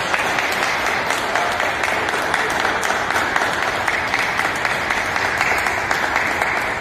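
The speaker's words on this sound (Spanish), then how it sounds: "dándole un fuerte aplauso a Cristo que vive ya entre nosotros." Loud, continuous applause from a congregation at a Holy Saturday Easter Vigil Mass in Juncos, Puerto Rico, dense steady clapping with no talk.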